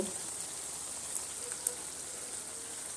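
Cashew paste fries in spiced oil in a pan while cooking egg biryani, giving a soft, steady sizzle and crackle with a few faint pops.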